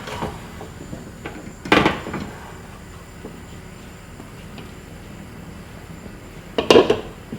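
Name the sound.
swapping cooking pans on the stove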